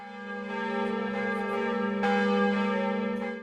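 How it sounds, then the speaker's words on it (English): A church bell chimes with a sustained, ringing metallic tone, struck again partway through so the resonance swells and hangs on, loud and close before cutting off. "It is possible to chime several bells together in a fixed or changing sequence, but this is more difficult than chiming a single bell."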